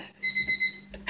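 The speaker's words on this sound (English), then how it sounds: "Allison Winterland, Mommy, your alarm." A timer alarm going off at home, a rapid pulsing electronic beep repeating several times, close and clear with no talk over it.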